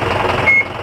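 A truck's reversing alarm gives a single steady high beep, close and clear, over a dense engine rumble on a steep road in San Gabriel, La Union.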